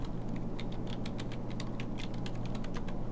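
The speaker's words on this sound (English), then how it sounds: "I could just type that out here" Quick, steady typing on a computer keyboard, a continuous run of light clicking keystrokes over a constant low electrical hum, with no voices.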